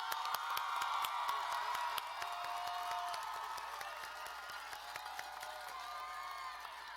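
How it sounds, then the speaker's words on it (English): A crowd applauds high school graduates at a 2020 graduation ceremony. The clapping is dense and sustained and sounds distant and fairly faint, with a few scattered cheers mixed in. "please join me in giving these graduates a big round of applause"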